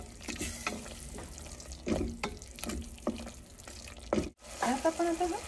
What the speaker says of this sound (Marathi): 1 चमचा गरम मसाला घालूया आणि पुन्हा मिक्स करून घेऊया.